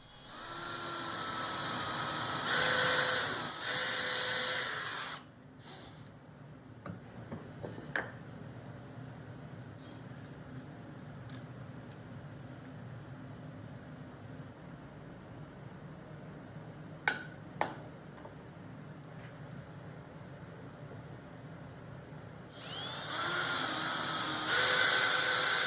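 A power drill bores guide holes into wood for a workbench vise screw, giving two loud hissing, whirring bursts at the start and end with a quieter stretch of faint clicks and handling noises between them.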